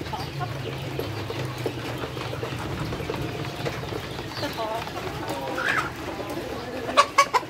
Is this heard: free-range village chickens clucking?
yes